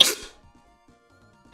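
A single sharp sneeze bursts out at the start, then quiet with faint murmuring, and a short spoken word at the end.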